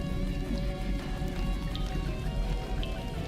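Rain from a hexagon-shaped storm on a planet falls in a steady, dense patter, with a sustained tonal hum running underneath.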